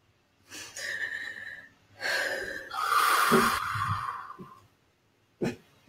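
Deep, slow breaths are drawn in and pushed out audibly, several long loud exhales close to the listener, ending with a short sharp breath, with no talking.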